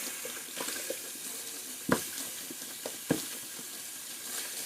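Hot water runs from a tap in a bathroom sink while a shaving brush is being prepared: a faint, steady hiss of flow with a few soft clinks and knocks around it.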